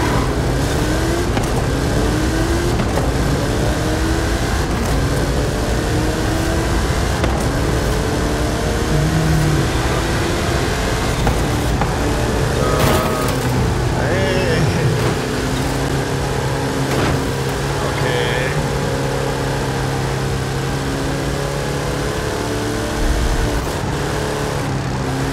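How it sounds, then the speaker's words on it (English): Hot Wheels cars drag racing in Forza Horizon 5, engines roaring loudly and continuously as they accelerate, with rising and falling revs and gear changes over a full, dense mix. "How about you and I test them in a drag race?"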